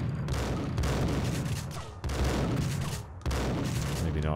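Shotgun blasts in the Max Payne game on PS2, three loud booming shots spaced about a second apart, each with a sharp attack and rolling tail, with no talk over them.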